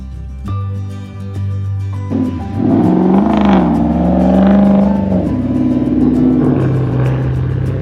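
A Porsche Cayenne driving a desert track in southern Morocco, its engine close and loud, pulling up through the gears with a rising hum and rumble over tyre and body rattle.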